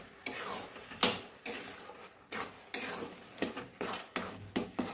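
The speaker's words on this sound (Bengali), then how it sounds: "যেহেতু এটাকে হাই ফ্লেমে পাকাচ্ছি, এটাকে আমি ক্রমাগত এরকম নাড়িয়ে যাবো" Coconut sandesh mixture stirred nonstop in a pan over a high flame, with a spatula scraping in repeated uneven strokes, close and moderately loud, alone without talk.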